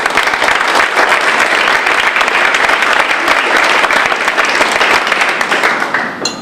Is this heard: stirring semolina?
no